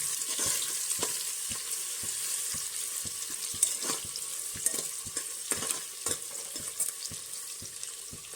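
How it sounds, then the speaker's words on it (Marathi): Chopped onion being stirred as it fries for mutton curry, with a steady sizzle under a run of regular spoon scrapes against the pan, near and fairly quiet. "बारीक चिरलेला कांदा मिक्स करून घेतो सगळं"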